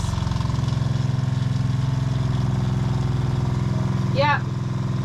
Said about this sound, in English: I'll just go turn the pump on